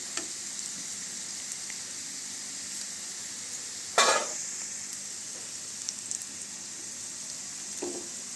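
Gongura leaves fry in a pan for a village-style gongura pasta curry, giving a steady soft sizzle broken by one sharp clatter midway and a faint knock near the end, with no voices.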